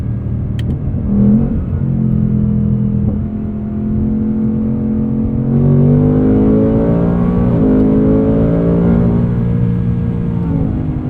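2024 Ford Mustang Dark Horse with a 10-speed automatic accelerating hard in track mode, heard from the cabin as a loud, rising engine drone that steps through quick upshifts, with no talk.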